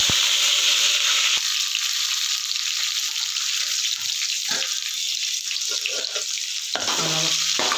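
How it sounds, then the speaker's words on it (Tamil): Mustard seeds, cumin and curry leaves sizzle in hot oil for a sambar tempering, a loud, dense, continuous hiss with faint crackles running the whole way through. "நம்ம அதுக்கு எண்ணெய் ஊற்றிருக்கோம் இப்போ கடுகு ஜீரகம் போட்டு தாளிச்சு விட்றோம்"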